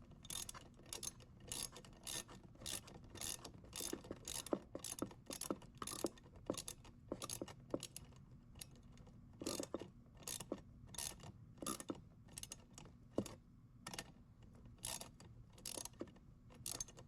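An Allen wrench tightens a bolt on a lawn mower striping kit in steady repeated ratcheting clicks, faint and close, with no talking.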